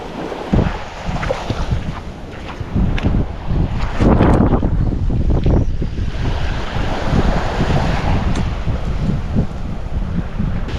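Wind buffeting and surf washing along a beach while snook fishing, a steady broadband roar with gusty rumbles and no voices.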